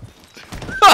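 A horse in the Western game Red Dead Online gives a sharp, loud whinny at the very end of a brief stretch of faint hoof and game noise.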